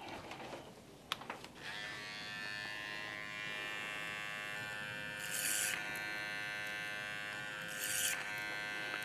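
Electric hair clippers buzz steadily and close up while cutting hair for a side part, a sustained hum that swells briefly twice as the blades pass through the hair.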